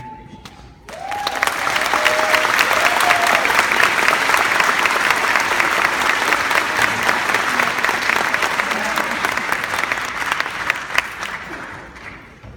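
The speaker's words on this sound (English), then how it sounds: "Let's give him another round of applause." Audience at a commencement ceremony applauds the speaker: after a brief tone, dense, loud clapping swells and holds steady for about eleven seconds, then thins and fades out.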